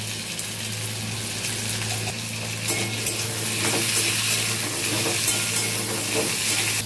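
Potatoes lightly frying in oil with salt sprinkled over, a continuous close sizzle with occasional stirring scrapes and light utensil clinks over a low steady hum.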